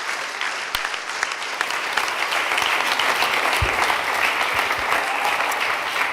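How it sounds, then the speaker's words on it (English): A summit audience gives warm applause for a firefighter from France: a loud, dense burst of clapping that builds within the first two seconds and holds steady to the end. "Give a very warm applause to Alain Laratta"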